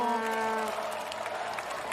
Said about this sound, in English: You can hear them cheering for him